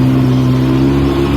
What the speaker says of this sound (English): It's idling now with the choke off.